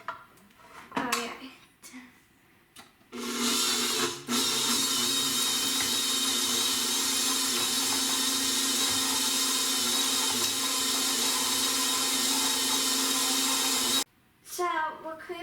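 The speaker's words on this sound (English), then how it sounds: "So we're creaming up the butter" An electric mixer creams butter for cookie dough with a steady, loud whir lasting about eleven seconds. A few clinks and handling noises come before it, and it cuts off abruptly at the end.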